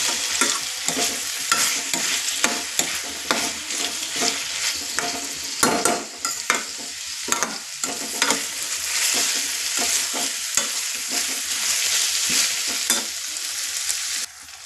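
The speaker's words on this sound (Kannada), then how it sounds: "ಈ ಥರ ಸರಿಯಾಗಿ ಫ್ರೈ ಆಗಬೇಕು. ಇವಾಗ ಪೂರ್ತಿ ಫ್ರೈ ಆಗಿದೆ ನಮ್ಮದು ಟೊಮೆಟೊ" Chopped tomatoes with onion and green chillies frying in oil in a pan, with a constant sizzle and repeated scraping stirs of a spoon, close and clear with no talking.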